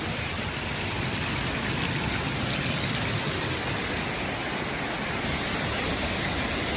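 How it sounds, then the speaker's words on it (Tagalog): Bagyangon Falls, a small waterfall, gives off a steady, dense rush of falling water, close and loud, unbroken from start to finish with no voices. "It's like a miniature waterfall."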